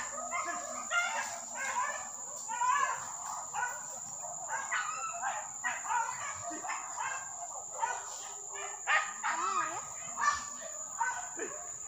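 Several hunting dogs give chase after wild boar in hilly country near Singkarak, Solok, their distant barks and yelps coming in uneven bursts throughout while someone speaks nearby.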